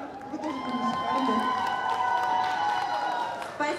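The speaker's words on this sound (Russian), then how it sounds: "Аплодисменты!" Audience at an award ceremony applauding and cheering as a winner is called up, a dense, steady wash of clapping with crowd noise throughout, and a voice talking over it.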